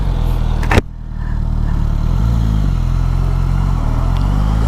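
A 2024 Suzuki Katana motorcycle riding at night, its engine droning steadily and loud after a sharp clatter near the start, with a slight pitch rise as it pulls away.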